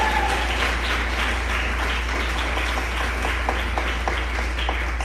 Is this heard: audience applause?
yes